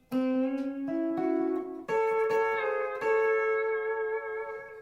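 A sustained pedal steel guitar phrase glides between pitches, holding smooth bending notes that step up and settle into a ringing chord, played alone.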